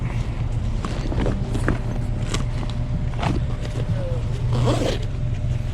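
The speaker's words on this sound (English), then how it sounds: "Just making sure all the zippers work" Zippers on a secondhand bug-out backpack at a garage sale, pulled open and shut in several quick rasping strokes over steady outdoor background noise, with no talk over them.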